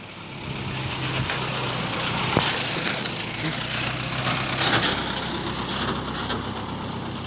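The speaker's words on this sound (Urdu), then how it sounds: "اس گاڑی کو گزرنے دو" A road vehicle, likely a truck or car, rumbles past at an outdoor street protest against rising flour prices, its steady engine noise mixed with crowd murmur and scattered voices.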